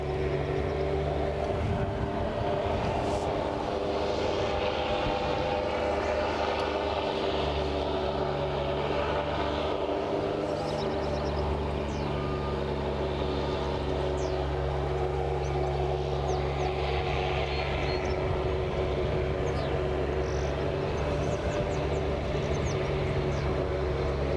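A Loganair ATR 42-600 turboprop from Kirkwall on final approach to Aberdeen, heard as a distant, steady propeller drone that holds evenly with a faint background hum, no voices.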